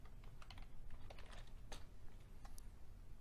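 Fingers type on a computer keyboard in a quiet room, a quick irregular run of soft, close key clicks that goes on throughout, faint, with no voices.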